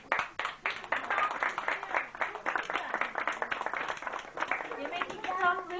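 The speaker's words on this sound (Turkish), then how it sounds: "Evet, o zaman hepinizi alkışlayalım" Children and an audience at a 1994 education ministry visit clap in scattered, uneven bursts at a modest level, with people talking over much of it.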